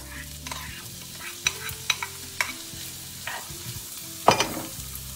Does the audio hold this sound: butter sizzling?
yes